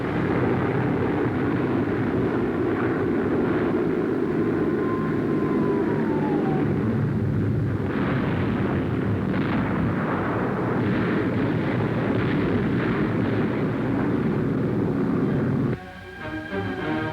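Allied bomber aircraft over Nazi Europe in a 1944 wartime newsreel, with a steady loud engine drone and rumbling bomb explosions throughout, plus a brief whistling fall and clustered blasts near the end.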